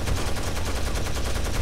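Rapid blind-fire gunshots in Tom Clancy's Rainbow Six Vegas 2 pour out as a continuous, loud machine-gun stream. The shots form an even, dense rhythm across the whole stretch, with no talk over them.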